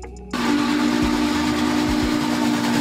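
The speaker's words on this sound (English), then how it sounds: "An old-fashioned train powered by steam engines, historically significant and often seen in museums or as tourist attractions." A steam locomotive sounds its steam whistle, a loud, sustained tone that cuts in abruptly and holds steadily over hissing steam, with a few low thumps beneath.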